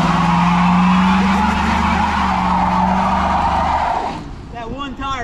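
A Ford Crown Victoria spins one tire in a loud, sustained burnout squeal close by, which cuts off after about four seconds as voices take over.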